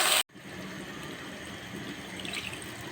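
After a short burst of noise, water pours steadily into a pan of rice with fried onion and garam masala, a soft, continuous splashing hiss, close by and without talk.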